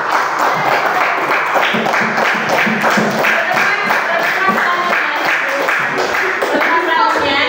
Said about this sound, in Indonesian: Kita tepuk tangan buat kita semua hari ini.